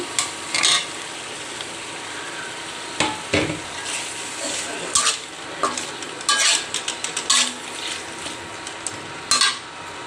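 Fresh red chilies and two cut potatoes go into a hot pan, giving a steady sizzling fry with sharp scrapes and clinks of a utensil stirring against the pan.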